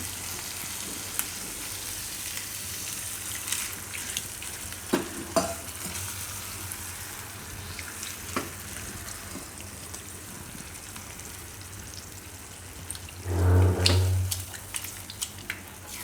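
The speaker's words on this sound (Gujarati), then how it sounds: "થોડુંક આમાં પાણી નાખશું આપણે." Water pours into a hot pan of boiled corn kernels and fenugreek with a brief loud burst of sizzling, amid faint stirring and clinking of a spoon in a quiet kitchen.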